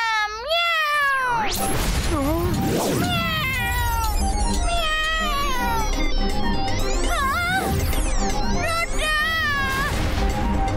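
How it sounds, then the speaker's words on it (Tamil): Cartoon cat meows over and over in a loud animated scene with music and a crash, the cries sliding up and down in pitch, with voices speaking in between. "மியாவ் மியாவ்னு நான் கத்துவேன்"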